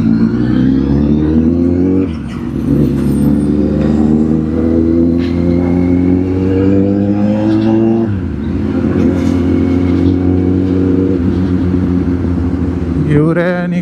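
Motorbike engine running steadily while riding, loud and continuous with harmonic tones that rise and then drop at gear changes, under a voice talking.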